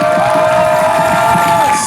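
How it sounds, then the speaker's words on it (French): A crowd cheers and shouts loudly and continuously for cosplay contestants at the Winter Geek Festival 2023 results, with a sustained whistle-like tone running through the noise. "Je pense qu'on peut vraiment les applaudir très fort car ils le méritent."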